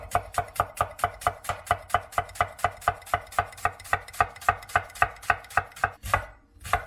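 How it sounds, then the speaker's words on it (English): A knife finely chops onion on a board, a steady run of crisp, close, even strikes, about three per second, that stops near the end. "So start off with the onion. We're going to go for a fine chop."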